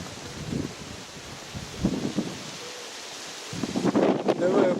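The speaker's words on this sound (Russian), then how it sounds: "Погода такая. Ветрила." Strong wind gusts buffet the microphone during rain, a rough roaring rush that swells in uneven bursts, with faint voices in the background.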